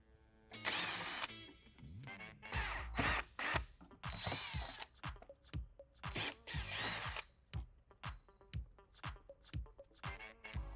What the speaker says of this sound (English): we need to remove these four screws and remove this faceplate